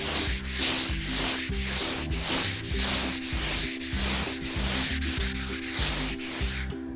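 Sandpaper rubbed by hand across an interior wall, in steady, loud back-and-forth scratchy strokes at a regular rhythm of about two per second, close up and with no talking.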